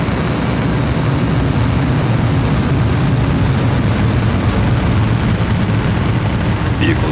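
A SpaceX Falcon rocket lifts off, its engines producing a dense, continuous low roar that stays loud and steady throughout, with a voice talking over it.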